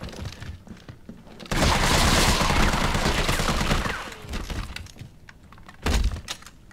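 Gunfire in the video game Resident Evil 3 Remake: a sustained loud burst of rapid shots for about two and a half seconds, then scattered thuds and a final short blast, with no voices.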